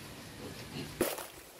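Native pig on a farm giving a short, low grunt near the end, close and fairly faint, with quiet farmyard background noise around it.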